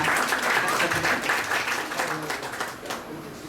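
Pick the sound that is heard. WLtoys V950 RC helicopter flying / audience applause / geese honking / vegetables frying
audience applause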